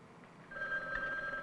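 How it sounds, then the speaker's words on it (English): A telephone rings quietly in a home during dinner, one steady electronic ring that holds for about a second against faint room noise. "let Margie answer the phone"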